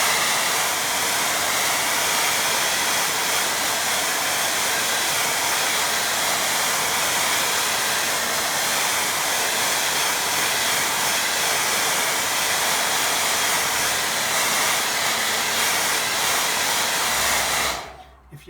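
A hair dryer blows over a watercolour painting in a loud, continuous roaring whoosh that runs unbroken for most of the time, then cuts off abruptly at the end.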